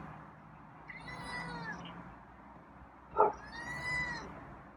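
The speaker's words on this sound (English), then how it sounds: "So yeah, you're meowing." A feral cat gives two drawn-out meows about two seconds apart, moderately loud and close, with a soft rustle between them and no speech.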